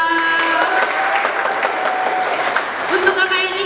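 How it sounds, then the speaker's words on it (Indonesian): An audience at a student talk show claps for a speaker being introduced, a dense round of applause that stays loud and even throughout, with voices mixed in. "Tepuk tangan dulu untuk Kak Bella"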